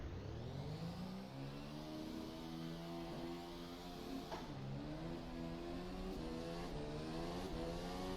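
Formula 1 car engine in a racing sim at Zandvoort, revving high and pulling away from the pit lane in first gear, a steady loud whine with rising harmonic pitch through upshifts, alone without talk.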